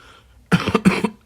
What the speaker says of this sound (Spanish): perdón ahí por la tosedera